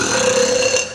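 A single loud, sustained burp, close and dry, lasting about a second with no talking over it.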